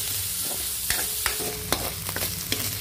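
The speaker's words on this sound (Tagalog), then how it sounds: "sangkutsa natin ng maigi hanggang bumango bago natin ilagay ang upo" Ground pork or meat sautéing in a pan before bottle gourd (upo) goes in: a steady close sizzle with repeated scrapes and clacks of a spatula stirring, no talking.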